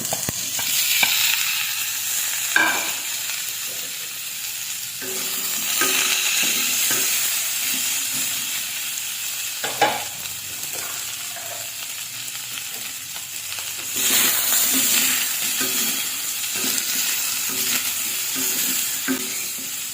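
Pork sizzling and frying in a pan with ginger for adobo, a steady loud crackle broken by repeated scraping stirs and clatters of the utensil against the pan.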